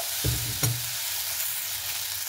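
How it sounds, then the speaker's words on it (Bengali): Chow mein being stirred in a pan after a little sugar is added, with two short scraping stir strokes over a steady low sizzle. "চিনিটা দিয়ে একটু ভালো মতো করে আবারও নাড়াচাড়া করে নিতে হবে।"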